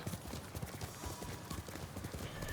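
Horse hooves clip-clopping in the video game Ghost of Tsushima, a steady rapid trot of muffled beats under a dense bed of ambient game sound and noise, faint and continuous.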